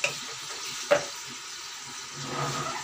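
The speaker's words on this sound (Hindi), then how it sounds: "थोड़ा सा जीरा डालेंगे" Cumin seeds hit a hot pan while aloo keema is being made, giving a steady close sizzle with a couple of sharp crackles and a slight swell of frying toward the end.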